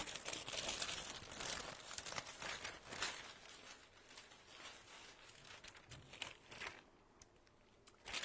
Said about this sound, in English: All right, I need a piece of parchment paper.